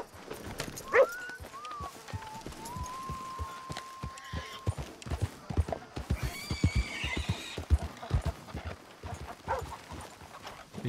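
Horse in Red Dead Redemption 2 video game, a clear whinnying neigh followed by rhythmic galloping hoofbeats, with a second high neigh partway through.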